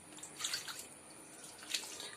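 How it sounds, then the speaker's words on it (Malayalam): Faint trickling and splashing of water being poured into a bowl that held grated coconut, in a couple of short bursts, quiet and close. "തേങ്ങ ഇരുന്ന പാത്രത്തിലേക്ക് ഞാൻ കുറച്ച് വെള്ളം ഒഴിക്കുകയാണ്"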